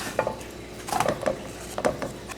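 Pumpkin being flipped in a pan for Trini-style pumpkin talkari: a few quick scraping clatters of a utensil against the pan in short bursts, close and moderately loud, with no talking.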